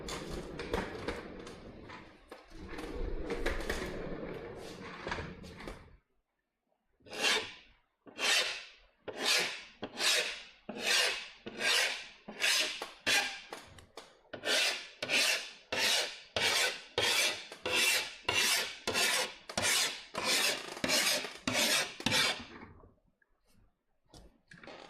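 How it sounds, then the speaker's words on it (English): A metal hand file rasps in a steady run of about twenty rhythmic strokes, close and loud, during window tint installation on a Subaru WRX STI, following a stretch of quiet talk. "I think that file will be nice and loud for some of you guys."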